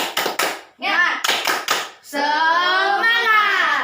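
A primary school class doing a rhythmic spirit clap, several quick bursts of group claps in a patterned rhythm, followed by children chanting loudly together.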